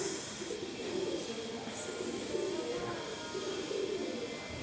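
Pigeons of the teddy breed coo in a loft in low, rolling, rhythmic calls over a steady hiss of background noise, moderately close.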